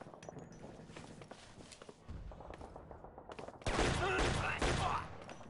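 Gunfire in the video game Shadow Ops: Red Mercury, bursts of rapid shots with a louder fusillade near the end, mixed with footsteps and game effects, no talk.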